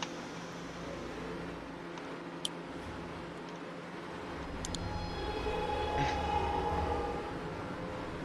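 A Roblox subway train runs on the Second Avenue Line in New York, a low, steady rumble and hum of the car with faint clicks and a swelling roar partway through.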